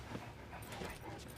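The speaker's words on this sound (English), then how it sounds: "These sure are pretty dogs." Dogs whimpering and yipping in short, close, high-pitched bursts, with a bit of background voice underneath.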